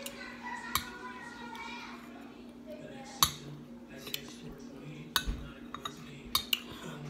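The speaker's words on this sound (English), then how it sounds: "Y'all know I like eating with these spoons." A spoon clinks against a bowl of Quaker oatmeal in several sharp, scattered taps while someone eats, with a faint voice in the background.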